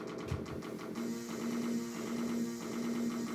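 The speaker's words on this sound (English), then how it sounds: "you might be able to hear my washing machine in the background" A domestic washing machine runs in the background with a steady low mechanical hum and rhythmic whirring, fairly faint and continuous.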